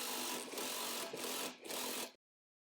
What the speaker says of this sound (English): Using a 17mm socket with the impact, remove the top hat nut.